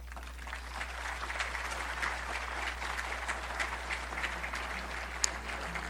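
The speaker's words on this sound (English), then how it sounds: "I would like for you to give a fine applause to a good singer-songwriter and guitar player" Festival audience applauding for a singer-songwriter and guitar player at an outdoor folk festival, a steady dense patter of clapping held at even loudness throughout, with no talk over it.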